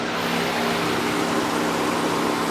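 A free car with a rough idle, its engine running in a constant low hum with a faintly uneven pulse, close and loud throughout.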